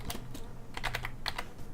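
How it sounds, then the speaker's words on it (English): Keys clacking on a computer keyboard while a mansion exploration game is played, a few quick bursts of taps separated by brief pauses, close and clear with no talk. "We're using the keyboard."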